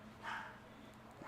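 A single dog bark rings out briefly at a distance over low background hum, near a 1975 C3 Corvette undergoing a 428ci LSA engine swap.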